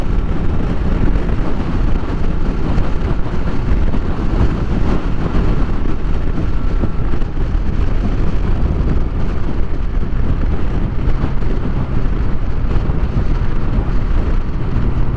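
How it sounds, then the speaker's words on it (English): Steady, loud roar of wind buffeting the microphone while riding into a headwind on a ride to Peel, continuous and unbroken with a low rumble beneath and no talking. "It might actually give me a push rather than me driving into the wind."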